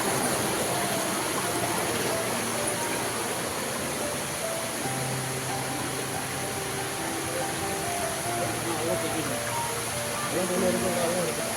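Kumbhavurutty waterfall makes a constant broad rush of falling water that fills the scene without a break, with faint voices audible underneath.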